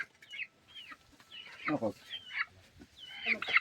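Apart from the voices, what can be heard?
chicken clucking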